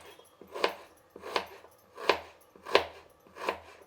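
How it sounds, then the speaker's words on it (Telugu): A knife slices an onion lengthwise on a cutting board, making five crisp, evenly spaced chops about 0.7 seconds apart, close and fairly quiet. "ఎర్రగడ్డ వచ్చి మనం పలావ్కి కట్ చేసుకుంటాం కదండి, వెజిటేబుల్ రైస్కి, అలా కట్ చేసుకోవాలండి పొడుగుగా"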